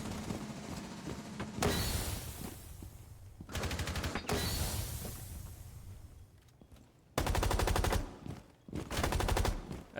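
Bursts of gunfire from Rainbow Six Siege, loud sustained automatic volleys separated by quieter gaps, with several distinct bursts across the stretch and no talking.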